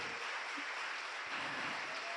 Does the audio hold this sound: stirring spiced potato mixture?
no